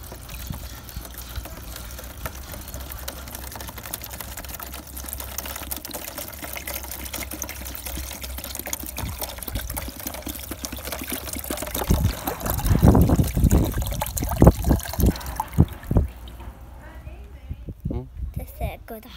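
Water poured during a children's science-week activity, a trickling, splashing pour that swells loudest midway and then breaks into a few spills and drips, with people talking throughout.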